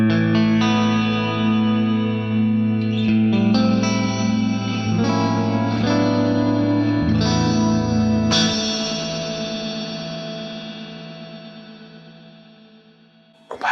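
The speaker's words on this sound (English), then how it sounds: "So if you wanted a grainy echo verb." A grainy echo reverb preset from the RC48 reverb in Guitar Rig 6 processes a sustained, heavily effected guitar-like tone, with shifting swells and a long decaying wash that fades out toward the end, no voices.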